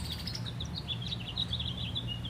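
Birds sing in trees at dusk: repeated thin chirps and short calls over a steady low background rumble. Nobody speaks.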